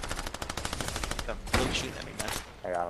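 Rapid automatic gunfire in a Fortnite match, a fast steady burst of shots followed by a sharp blast and scattered effects, loud and close.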